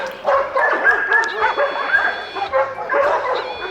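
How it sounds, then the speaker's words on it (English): Neighborhood dogs barking in Coyhaique, Chile: a burst of repeated yips and barks from several dogs, fairly close and loud, mixed with whining, pausing briefly between rounds. "the neighborhood dogs would bark occasionally"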